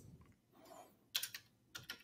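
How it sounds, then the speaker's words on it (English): Light typing on a computer keyboard, a few quiet scattered keystrokes in short bursts, close and faint with no talk. "then I can start typing my data, my answers, basically"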